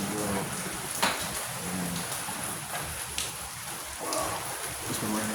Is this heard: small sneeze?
no